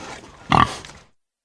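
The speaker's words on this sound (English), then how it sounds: "Grunt. Pig." A single short pig grunt, close and fairly loud, with nothing else around it.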